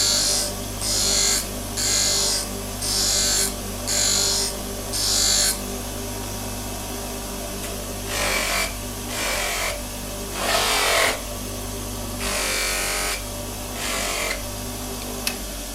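A powered sharpening stone grinds a woodcarving tool in six short, regular bursts of gritty rasping, then a few longer, louder strokes, all over a steady motor hum with no speech.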